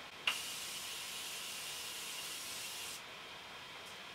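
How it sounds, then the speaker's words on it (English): A single sharp spritz of face mist starts a soft, steady hiss of fine mist that runs for a few seconds, then drops away; quiet and close. "I am just going to spray my face just to melt all of the products together"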